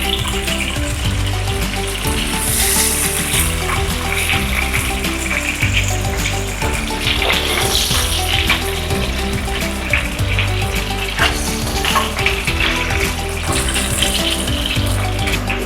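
Food frying in oil in a pan for a beef caldereta, a loud, dense, unbroken sizzle and crackle that holds steady throughout with no voices.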